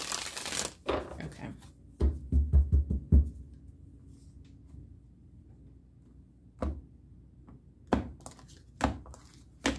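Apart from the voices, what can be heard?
tarot cards being shuffled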